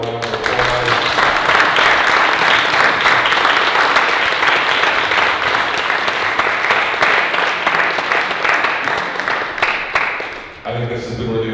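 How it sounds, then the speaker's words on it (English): An audience gives a round of applause for the panelists at a reunion event, steady dense clapping lasting about ten seconds before tapering off abruptly near the end. "Let's give them a round of applause."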